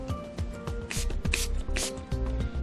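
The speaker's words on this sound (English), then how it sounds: "you can just take your spray bottle" Several short hissing spritzes from a spray bottle, bursting in quick succession among light handling noises, close by.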